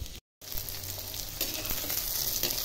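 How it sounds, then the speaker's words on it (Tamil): Small shallots and garlic fry in hot oil in a clay pot, a close continuous sizzle that drops out for a split second near the start, then grows slightly brighter with faint stirring. "ஆயில் ஹீட் ஆயிடுச்சு, இப்போ சின்ன வெங்காயம் பூண்டு எல்லாம் வணக்கி எடுத்துடலாம்."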